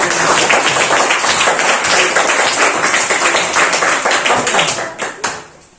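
Classroom audience applauding student presenters in a teacher-training lesson, loud, close, rapid clapping sustained for several seconds before tapering off and fading out at the end.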